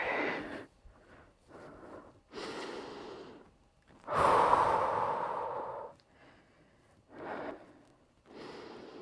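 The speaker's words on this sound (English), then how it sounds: "Just breathing through here. Don't hold your breath." Heavy, sighing breaths in and out during a static crab hold exercise in a medium-intensity workout, several close exhales with one long loud gasp-like breath in the middle, no talking.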